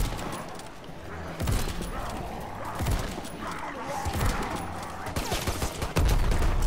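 Rifle gunfire in the Call of Duty: WWII video game: repeated sharp shots, with occasional louder bursts, ring out over a constant rumbling battlefield ambience.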